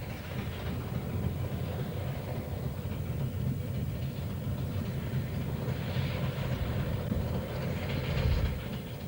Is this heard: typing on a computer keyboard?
no